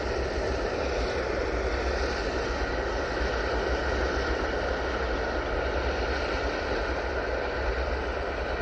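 A large airplane landing at Manchester Airport gives a steady, broad roar of engines and rushing noise that holds evenly throughout, heard from a distance without talk.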